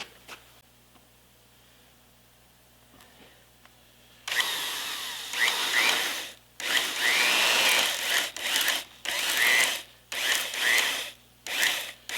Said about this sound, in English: Two tiny holes there for the counterbore bit to grab into.